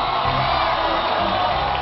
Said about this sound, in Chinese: 让我们要再次以热烈的掌声欢迎小青的饰演者陈美琪